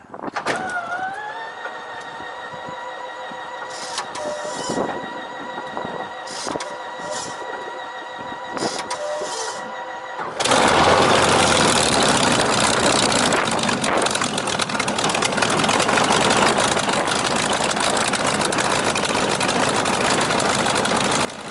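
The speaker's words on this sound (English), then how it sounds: "Merlins can be a little tricky to start" A Spitfire's Merlin aircraft engine cranks with a whining starter and intermittent pops, then catches and bursts into a loud, continuous roar that holds steady to the end.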